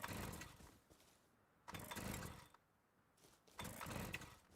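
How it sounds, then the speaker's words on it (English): Chainsaw engine pulled repeatedly to start: three loud rasping bursts, each about a second long, separated by brief quieter gaps, close to the listener and without speech. "I put fuel in the chainsaw before I started."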